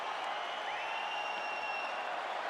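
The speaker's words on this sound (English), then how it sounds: "So the crowd voicing its appreciation after that round." Arena crowd applause after a round in the UFC 5 fighting game, a steady wash of clapping and crowd noise, moderately loud, with no voices over it.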